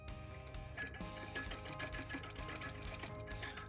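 A sewing machine quilts a bird panel quilt with matching thread, its needle running in a steady, close, continuous mechanical chatter that stops briefly and restarts, with no talking over it.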